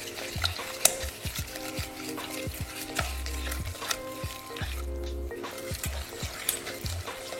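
Eggs are stirred into a thick chocolate brownie batter in a bowl, making repeated wet scraping and stirring strokes close up, with occasional light clinks of the utensil.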